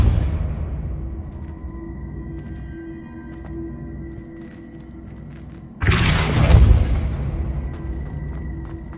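The Depulso force spell in the Hogwarts Legacy video game lands as a sudden heavy boom after a low ambient hum, then a rumbling decay with no talking.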